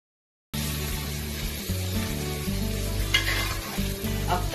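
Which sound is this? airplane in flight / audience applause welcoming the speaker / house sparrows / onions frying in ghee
onions frying in ghee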